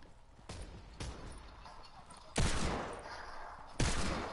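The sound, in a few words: gunfire from a video game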